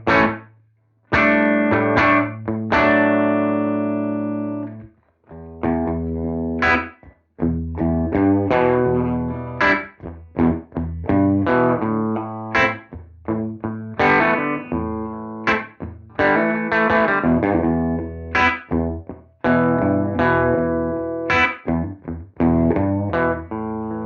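An electric guitar plays through the free UA Showtime plugin on a bluesy room preset: crunchy, lightly distorted licks and chords in loud phrases broken by short pauses.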